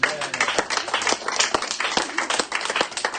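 A congregation at a prayer vigil claps to acclaim the Lord, a dense crowd applause with steady, rhythmic louder beats running throughout, with voices mixed in.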